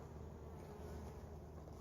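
Honey bees hum steadily in an opened hive during a week-six hive check, a dense continuous drone close by with no pauses.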